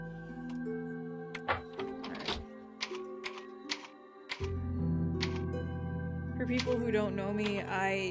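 Leon hunt-and-peck typing on a typewriter in the Resident Evil 4 VR video game, with uneven sharp key clacks spaced irregularly over steady game music.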